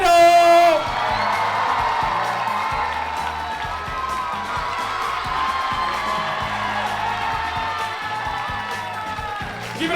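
An audience at a Philippine Culture Night show cheers, whoops and claps in a sustained burst that opens loudly after a brief announcer's voice, then settles into a steady roar of applause.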